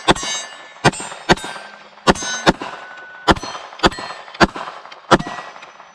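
Pistol rounds striking steel targets on an outdoor range, a series of about nine sharp metallic clangs and dings with bright ringing tails, some arriving in quick pairs, loud and close with no talk.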